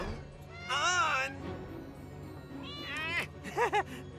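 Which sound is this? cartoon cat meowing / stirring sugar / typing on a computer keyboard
cartoon cat meowing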